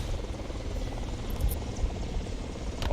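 Helicopter in War Thunder: a dense, throbbing rotor and engine drone, loud and continuous with rapid low chopping pulses, plus a faint brief high tone near the end, no voices.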